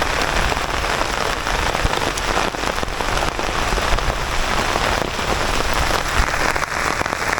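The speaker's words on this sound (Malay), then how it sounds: "Hujan lebat gila." Heavy tropical rain pours steadily onto surfaces outdoors during a fishing trip, a dense, loud, unbroken hiss of drops with no pauses.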